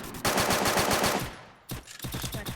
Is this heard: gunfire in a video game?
yes